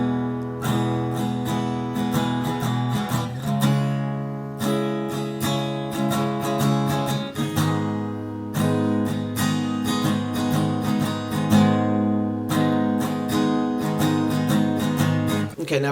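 Chords of a song are strummed on guitar using only the bottom three strings, with steady, ringing strokes that repeat in a slow, even pattern throughout, played alone without talk.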